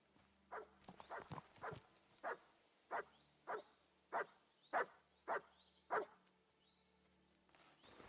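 Dog barking in the video game Kingdom Come: Deliverance II, a run of about ten sharp barks, some clustered early and then evenly spaced at roughly half-second intervals, moderately close and alone with no talking.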